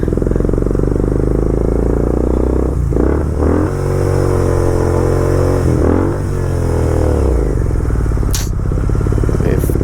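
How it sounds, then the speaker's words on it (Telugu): A Royal Enfield motorcycle engine struggling to pull away, a loud, continuous low thumping idle with a few uneven revs and dips, heard up close. "అరే బైక్ వెళ్ళట్లేదు."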